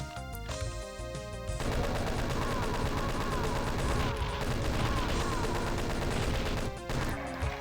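Chaingunners firing in Doom 2 come as rapid repeated shots layered into dense game music and effects, a steady loud wash with brief dips, no voices.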